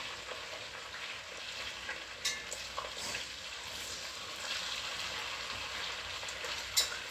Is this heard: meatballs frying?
yes